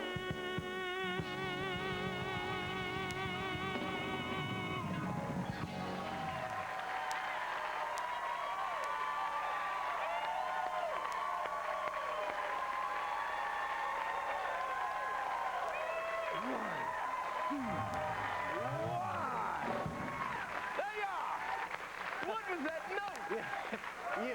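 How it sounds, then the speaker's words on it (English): Studio audience applauding and cheering at a late-night television talk show, a broad steady wash of claps and whoops running throughout, with sung and spoken voices heard over it at the start. "Oh, please, stop applauding."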